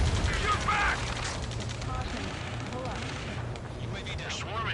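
Battle gunfire in Ace Combat 7 rattles as dense bursts and blasts early on, then keeps going as a busy mix of shots and mechanical noise, with voices speaking over it.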